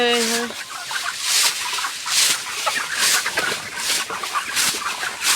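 A group of chickens clucks close by in a shaded corner of a poultry farm on a hot afternoon, with repeated bursts of calls across the whole stretch.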